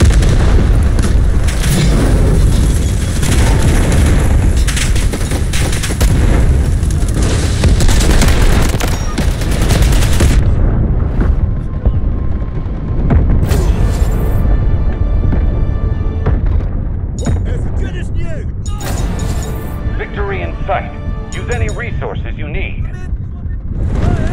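Cruise missile strikes in the military shooter Delta Force: Hawk Ops: a long, loud barrage of booming explosions and gunfire that thins out after about ten seconds into scattered blasts and tones, with voices speaking over the din.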